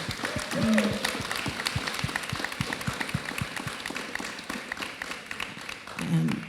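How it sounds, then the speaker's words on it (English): An audience at an evening business panel claps for the speakers, with scattered, fairly faint claps throughout and a few voices heard near the start and end. "A huge round of applause."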